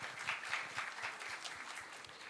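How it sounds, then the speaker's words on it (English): An audience at a professionals' summit gives a round of applause, a soft, steady wash of many hands clapping heard from a distance for a couple of seconds. "a round of applause, please."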